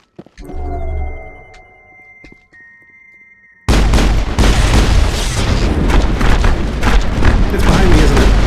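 A grenade blast in the sci-fi shooter Mass Effect erupts as a loud, sudden boom, followed by a dense, roaring wash of explosion noise and debris lasting several seconds after quieter game sounds.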